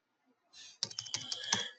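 Quick, close keystrokes tapped on a computer keyboard, a short burst of several light clicks in an irregular rhythm, faint and alone.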